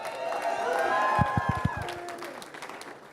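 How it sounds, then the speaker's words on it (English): A crowd at a political event claps and cheers in a short burst, a few sharp claps standing out amid a muffled roar that fades quickly, with a voice ringing out over the start. "Give Edna a big round of applause"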